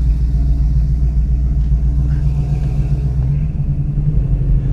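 Deep, steady engine rumble from a 1970 Dodge Challenger while driving, a loud continuous low drone that stays constant throughout.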